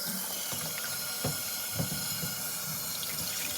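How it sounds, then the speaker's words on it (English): Tap water runs steadily into a sink as moss is rinsed for reptile decor, a continuous close splashing stream with a few soft knocks and bumps in the basin, no voices. "let's rinse out the moss."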